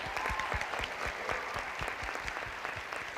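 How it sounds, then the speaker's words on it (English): The crowd at a local pageant competition gives a quiet, steady burst of applause, with dense overlapping claps and a few heavier thumps spread evenly throughout. "Can we give them another round of applause?"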